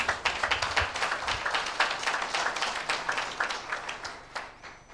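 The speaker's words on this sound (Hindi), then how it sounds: "क्या उसके लिए जोरदार ताली बजाएं?" A church congregation claps in a fairly quick, steady rhythm. The sound is moderately loud and fills the room, then softens and trails off near the end.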